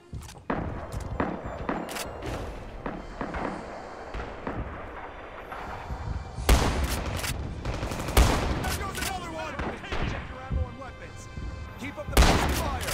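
Shotgun blasts boom in the World War II shooter Rising Storm, a trench gun firing alongside scattered distant gunfire and explosions. Loud thumps land at irregular moments over a busy battlefield.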